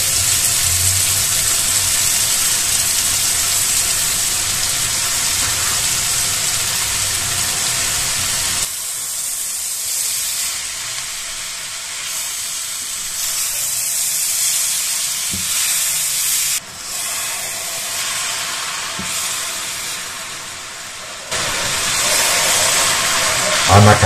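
Zucchini and carrot tipped into a hot pan with sweet chili and smoked paprika for a Greek zucchini pie, giving a steady, loud broadband sizzle and hiss that drops partway through, then rises again.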